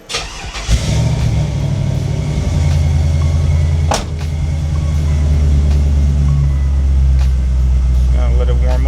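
A Chevrolet C10 truck engine cranks and catches, then settles into a steady, loud, close idle as it warms up, with a sharp knock partway through and some rattling near the end.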